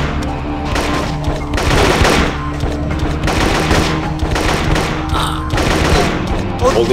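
Sustained jungle firefight in Marine Sharpshooter II: Jungle Warfare, dense overlapping automatic gunfire and shots rattling continuously, loud and close throughout.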